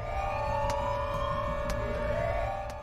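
A continuous wailing siren from the Siren Head monster in a video game, loud and steady with layered tonal drones, punctuated by a few sharp clicks.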